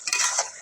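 A brief scrape and clink of a spoon stirring chicken curry with curry leaves in a pan, close and soft, with a faint sizzle under it.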